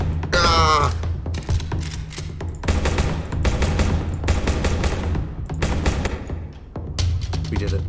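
Rapid gunfire bursts in the video game Prison Simulator during a prison riot, loud and repeated across the clip, with a few short breaks between volleys.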